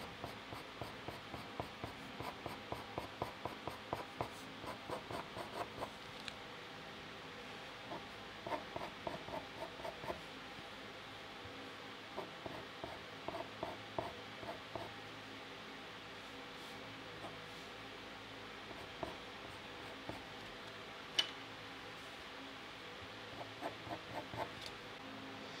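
Colored pencil strokes scratch across Pastelmat paper in quick, soft bursts of repeated rubbing, faint and close, with brief pauses between groups of strokes.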